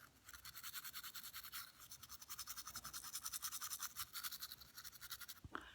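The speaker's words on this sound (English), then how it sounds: "You also want to brush the biting surfaces of the teeth, and this one you can scrub back and forth on" A toothbrush scrubs back and forth across the biting surfaces of the teeth, a steady rapid rhythmic bristle scratching, close up, with no voices.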